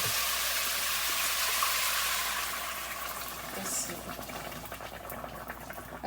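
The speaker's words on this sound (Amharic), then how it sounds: "ከዛ እንደዚህ ብሎ ይተከተክልናል።" Water boiling in a cooking pot with leaves added, giving a steady close bubbling hiss that fades slightly partway through.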